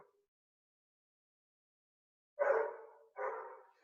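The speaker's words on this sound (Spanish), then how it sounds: "¿Por qué carajo ladra ese perro?" A dog barks twice in quick succession at a moderate distance after a stretch of near silence, two short sharp barks in an indoor lecture setting.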